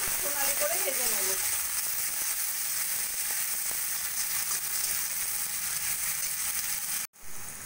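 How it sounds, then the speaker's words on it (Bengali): Thinly sliced onions sizzle and fry in hot oil for a Bengali kachur loti dish, a steady close crackling hiss throughout with a few light stirring clinks, before an abrupt cut near the end. "পেঁয়াজটা একটু আমি সোনালি করে ভেজে নেব।"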